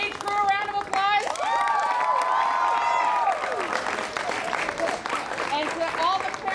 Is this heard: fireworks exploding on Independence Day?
no